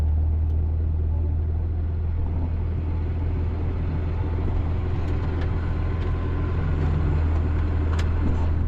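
A farm dump truck at a soybean harvest rumbles with a deep, steady engine drone, loud and close, holding an even low growl without pause.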